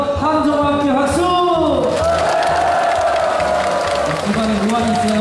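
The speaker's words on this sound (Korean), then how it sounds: "밝은 표정으로 다시 한번 함성과 함께 박수!" Festival audience at an opening performance of the Sunchang fermented sauce (jang) festival, cheering and clapping together, loud and continuous crowd noise with a voice talking over it throughout.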